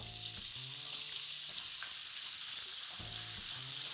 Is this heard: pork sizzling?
yes